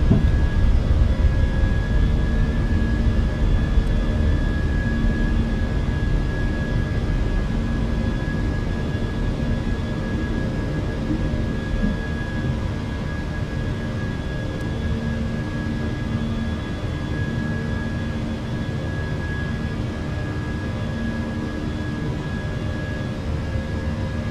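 Fenix A319/A321 jet airliner taking off in Microsoft Flight Simulator, a steady broadband engine roar with faint tonal whines, loudest at the start and settling into a constant drone, with no talking.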